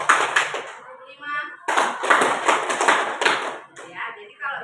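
Schoolchildren in a classroom clap along in a counting clap game, distinct bursts of claps in short groups separated by pauses, with a teacher's and children's voices talking between and over them.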